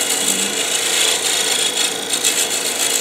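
A skew chisel used as a scraper on wood spinning on a lathe while turning an offset scoop, a loud, steady, close rasping scrape with no talking.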